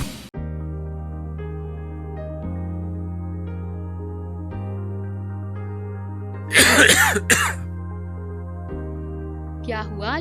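Several coughs in a quick cluster from a person near the middle of the clip, loud and close, over a steady musical drone with no other talk.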